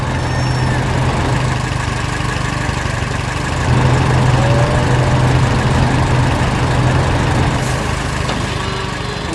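A farm tractor's engine runs steadily and loud throughout, a low rumbling drone with a slight swell in the middle, with no voices.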